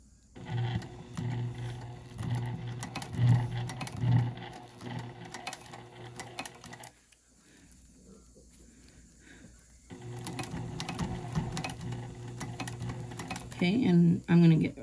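A domestic sewing machine stitches through thick vinyl with a rapid mechanical whir and clatter, loud and close, pausing midway for a few seconds before running again, with a person talking over it.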